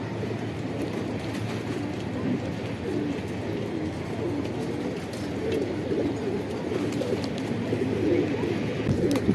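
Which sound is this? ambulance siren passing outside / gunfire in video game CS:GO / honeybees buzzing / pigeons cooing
pigeons cooing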